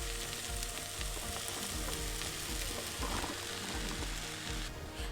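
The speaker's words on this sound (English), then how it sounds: "we're gonna add in our mushrooms and let those cook" Zucchini and mushrooms cook in a pan for a spaghetti sauce, giving a steady, close sizzle and crackle of frying that runs continuously, with faint stirring knocks.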